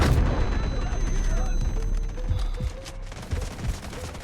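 Combat in the Delta Force shooter game: a missile fired and striking, amid sustained booming gunfire and explosions with rumbling low impacts and a thin whistling tone, loud and continuous, with players talking underneath.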